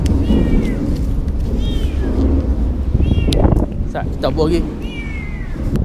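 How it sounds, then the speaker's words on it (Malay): A cat meows several times on a bridge during a fishing trip, high drawn-out cries rising over steady wind noise and close conversation. "Nangis tak kucing mu"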